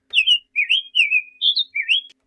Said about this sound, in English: Next, we have the hepatic tanager, a beautiful passerine or songbird species that lives there.